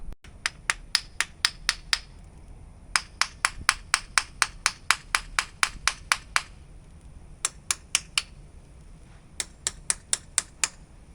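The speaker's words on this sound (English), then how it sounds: "I'm gonna go get a hammer." Sharp metallic hammer blows strike a winch solenoid on a bumper, landing in fast rhythmic bursts of roughly thirty close, loud hits with short pauses between runs.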